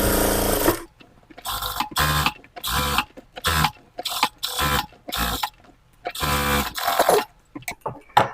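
Sewing machine stitching lining cloth onto a blouse edge, running in repeated short bursts of rapid whirring with brief pauses between, close and fairly loud.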